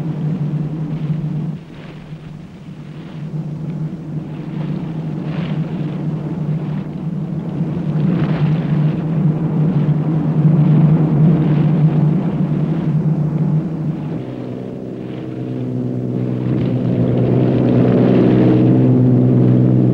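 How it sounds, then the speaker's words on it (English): A 1963 powerboat race boat powered by twin petrol-driven Ford engines gives a steady, loud engine drone with wind and water noise, holding for the whole stretch and rising slightly toward the end. "Second is Blue Moppy, powered by the same sort of engines, twin petrol-driven Fords."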